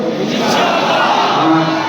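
Crowd at a Palestine solidarity gathering at an exhibition ground in Nampally, Hyderabad, shouting slogans together, a loud, sustained mass of voices that fills the whole stretch.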